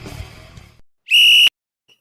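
A single sharp referee whistle blast, loud and piercing, follows a brief low rumble and then cuts off into silence; a sound effect marking the third quarter of a basketball game.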